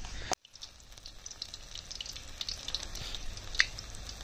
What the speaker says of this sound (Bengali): তো বড়া ভাজা স্টার্ট।